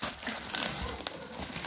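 Taped packaging is opened up close, with crisp crinkling and crackling plastic and a short tearing sound over a few moments, and no speech.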